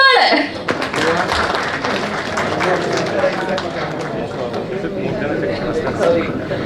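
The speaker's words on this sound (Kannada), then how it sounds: "ಚಪ್ಪಾಳೆ." An audience claps at an event. The dense patter of applause keeps going throughout, partly under people talking.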